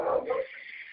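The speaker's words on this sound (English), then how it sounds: "Didn't mean to make the dogs bark, but I was going to say it sounded like my Catahoula." A dog gives a short, fairly close bark, a single harmonic burst lasting under half a second, which trails off into a faint, thin tail with no other sound.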